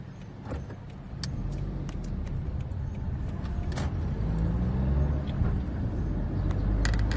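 Cars in oncoming traffic passing on a road in San Gwann, Malta, heard from inside a moving vehicle as a continuous low rumble of engine and road noise with occasional faint clicks.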